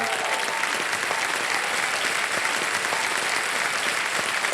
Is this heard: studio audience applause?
yes